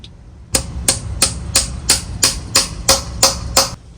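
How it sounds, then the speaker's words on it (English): A mallet strikes a woodturned piece eleven times in an even rhythm, each knock sharp and close with a short hollow ring, loud against a quiet background. "grab the mallet"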